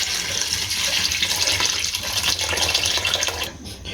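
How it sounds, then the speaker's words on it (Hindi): Water pours steadily into a pot of rice for chicken biryani, a continuous broad splashing rush that holds fairly loud and even for the whole stretch, with no voices over it. "तो इसके अंदर अब हमने पानी ऐड करना है।"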